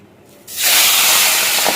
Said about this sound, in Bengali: ভেজে নিচ্ছি পাবদা মাছটা।